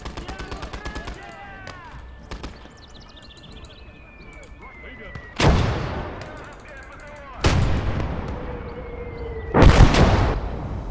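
Heavy artillery booms and gunfire from the Gates of Hell: Red Star Rising video game, with three loud blasts at intervals over scattered shots and a whistling incoming shell.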